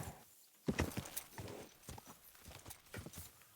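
Irregular hollow hoof clops of a horse on hard ground in the video game Kingdom Come: Deliverance 2, fairly quiet, with a brief snort or whinny-like sound amid the steps.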